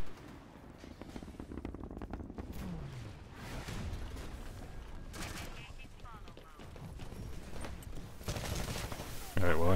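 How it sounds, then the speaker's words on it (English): Gunfire in the Titanfall multiplayer map Runoff, a dense stretch of rapid shots and explosive bursts that runs under game noise throughout, with a heavier blast near the end. "Alright, well, I missed him, so I'm shooting him."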